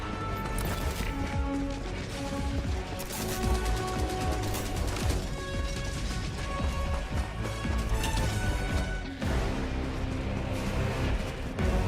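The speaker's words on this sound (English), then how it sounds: "Warning, you are in range of enemy artillery." Enemy artillery barrages pound a Helldivers 2 battlefield on Cyberstan, a dense, continuous roar of explosions and gunfire layered under game music and effects, loud and unbroken with a sharp new burst near the end.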